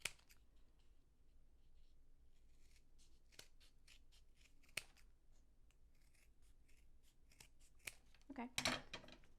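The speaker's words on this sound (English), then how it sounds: "And you're just going to cut slices." Scissors snip slices from a cardboard toilet paper roll, producing a series of sharp, close cutting clicks at irregular intervals, with a louder flurry of snips near the end.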